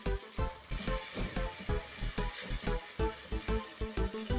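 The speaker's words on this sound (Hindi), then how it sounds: "1 खाने का चम्मच अदरक लहसुन है, अदरक लहसुन शामिल करके भुनाई करेंगे।" Ginger, garlic and tomato are frying in a pan, with steady close sizzling broken by rhythmic stirring scrapes and clatters.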